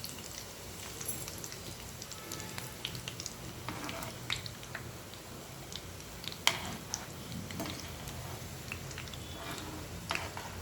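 Dried red chillies and curry leaves frying in hot oil for a tempering, a faint, steady crackle with scattered tiny pops, quiet and close, with no voices.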